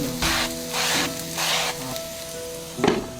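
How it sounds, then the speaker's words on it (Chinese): Flatbread dough frying in an oiled, covered pan, giving a steady sizzle that swells in repeated waves, with a brief clatter near the end and no talk. "下锅后喷上油，盖上盖子焖住。"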